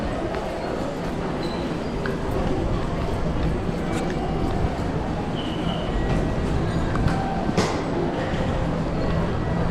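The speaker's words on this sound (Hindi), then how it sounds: "सो फाइनली गाइस मैंने ट्रेन ले ली है सिटी के लिए, अपने होटल के लिए।" A passenger train in Japan bound for Kyoto hums with a steady rumble and rattle heard from inside the carriage, with a few faint clicks and voices talking quietly beneath it.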